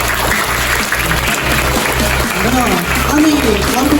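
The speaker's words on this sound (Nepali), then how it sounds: "हाम्रो समीर सरको लागि ताली बजाउनु थियो।" Sustained, loud audience applause for a computer teacher at a school presentation, steady clapping throughout with a strong low-frequency thump pattern and some voices mixed in.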